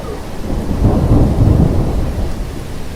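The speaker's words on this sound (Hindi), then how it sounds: "उसने देखा कि बाहर बहुत तेज बारिश हो रही थी" Heavy rain pours steadily with deep rolling thunder swelling through the middle, a dense, continuous roar close by with no voices.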